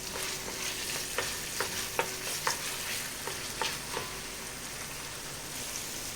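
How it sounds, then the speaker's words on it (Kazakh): Meat frying in a pan with onion and carrot for a Kazakh noodle soup, a soft continuous sizzle broken by several sharp stirring clicks and taps, moderately close with no talk. "пиязымызды саламыз және сәбізімізді саламыз. Жақсылап тағы да 1-2 минут қуырамыз."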